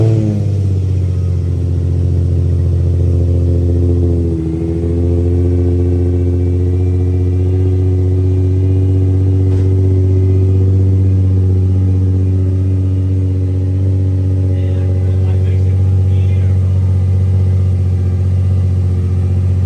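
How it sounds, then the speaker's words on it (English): A 2008 Nissan 350Z HR fitted with a Megan Racing exhaust, cold-started and settling into a loud, steady low idle with a deep exhaust drone and a small dip early on, running continuously throughout. "Official cold start."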